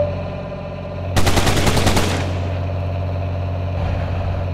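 Rapid burst of automatic gunfire in the video game RoadKill, loud and close for about a second, over a steady rumbling vehicle engine that keeps droning afterward.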